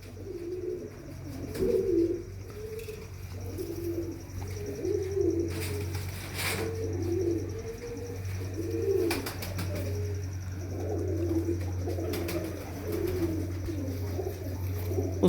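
Pigeons at Mian Rauf Laliani's home loft coo repeatedly in soft, rolling phrases close by, layered over a steady low hum, with a few faint chirps now and then.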